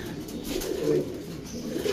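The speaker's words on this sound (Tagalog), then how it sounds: "Madaming ibon yan." Pigeons coo softly in low, rolling calls over a constant outdoor hiss, with several birds calling close together.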